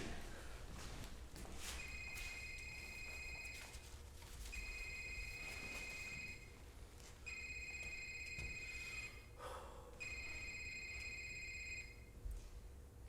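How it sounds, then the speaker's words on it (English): A phone line rings back while a cell phone call is placed, four evenly spaced electronic ring bursts each about two seconds long with short gaps, heard faintly and close as if through the handset, with no talking. "I need to call Mandy."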